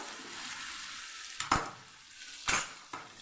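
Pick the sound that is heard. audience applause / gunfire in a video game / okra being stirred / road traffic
okra being stirred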